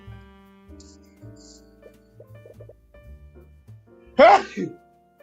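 A person sneezes once, loud and close, a sharp burst rising out of a quiet setting with no talking around it.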